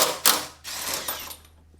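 Air impact gun spinning loose a bolt on a Mercedes W163 ML SUV, two short loud rattling bursts followed by a longer buzzing run, close up with no talking.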